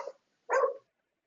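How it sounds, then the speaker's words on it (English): A dog barks twice in the background: a brief yip first, then a louder single bark, with silence around. "dog going a little crazy there"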